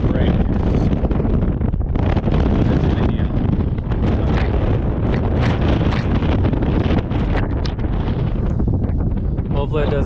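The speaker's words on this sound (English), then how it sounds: "It's pretty windy." Strong wind buffets the microphone at a campsite by a Range Rover rooftop tent, a loud continuous rumbling roar with gusts throughout, and a voice is partly buried beneath it.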